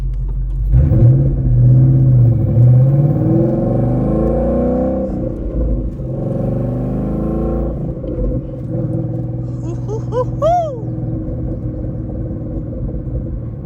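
A 2013 Ford Mustang GT with a manual gearbox drones steadily from inside the cabin while driving, its engine note rising and dropping as gears change, with brief higher whining tones near the end.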